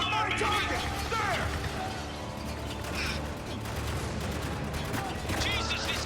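Rapid gunfire rings out during a firefight in Spec Ops: The Line, dense and continuous across the whole stretch, layered under shouted voices and game effects.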